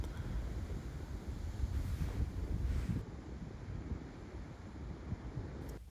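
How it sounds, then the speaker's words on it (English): Ocean surf rolling onto the beach at Nazaré, Portugal, heard as a steady, loud roar of broken waves, heavily mixed with buffeting wind noise on the microphone throughout. "The waves here can be as much as 100 foot high"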